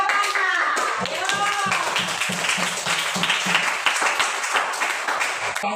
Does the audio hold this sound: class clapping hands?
yes